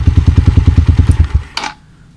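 A motorcycle engine idles with a steady, loud, rhythmic chug and then cuts out abruptly when a wireless kill switch shuts it off, leaving near silence after a short final clatter.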